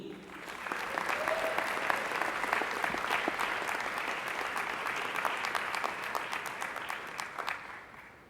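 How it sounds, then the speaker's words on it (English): Audience applause for the 2023 law graduates at the Case Western Reserve University School of Law commencement. Dense, steady clapping from a large crowd swells quickly and holds for several seconds before easing slightly. "Please join me for a round of applause for all of Case Western Reserve University School of Law's 2023 graduates."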